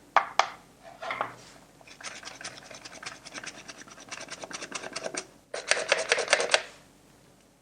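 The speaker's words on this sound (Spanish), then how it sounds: "Tamizamos la harina." Flour being sifted for a homemade Italian panettone, a dry rasping rattle of the sieve in quick repeated bursts, two longer stretches of steady scratchy shaking separated by a brief pause, close and fairly quiet.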